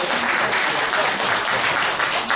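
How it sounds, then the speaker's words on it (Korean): Audience at a public forum and lecture breaks into loud, dense applause that fills the whole brief moment without pause. "나머지 이야기를 표 교수님 듣고 우리 다 같이 박수 한번 마치도록 하겠습니다."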